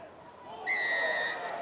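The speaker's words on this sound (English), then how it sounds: "And the whistle blows here." A rugby league referee's whistle sounds during a Super League match between Salford Red Devils and Hull FC, one sustained shrill blast lasting about a second over low crowd noise and commentary.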